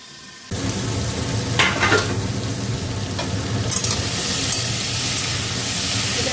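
Potatoes fry in a pan over high gas for aloo posto, a loud continuous sizzle and hiss bursting in suddenly and holding steady, with occasional stirring scrapes and no talk.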